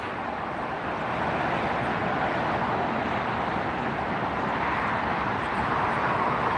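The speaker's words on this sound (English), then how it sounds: "The Emirates A380 heading off." An Emirates Airbus A380 taking off at LAX, heard as a steady, broad jet roar from a distance that holds evenly throughout with no voices.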